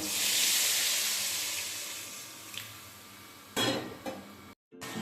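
Water poured into hot curry in a pan gives a loud hissing rush that fades over a few seconds, followed by a couple of near clanks of metal on the pot.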